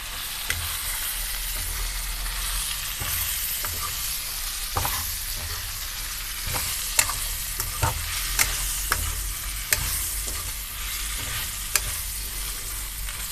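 Mutton and potato curry sizzles and fries in a pan while a spoon stirs it, scraping and clinking at irregular intervals over a steady close hiss, with no talk.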